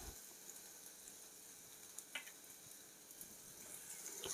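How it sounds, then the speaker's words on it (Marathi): Ginger garlic paste sizzling in oil with browned onions in a pan, a quiet, steady frying hiss with a few faint ticks and pops, no talking. "आता आलं लसूण पेस्ट टाकूया"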